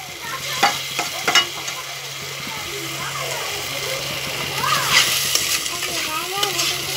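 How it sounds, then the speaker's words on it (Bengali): Chili paste and tomato paste stir-fry in a pan with a steady frying sizzle, broken by several sharp scrapes and clacks of stirring near the start, with more tossing toward the end. "এখন এগুলাকে আমি আবার ভালো করে একটু ভাইজে নিব"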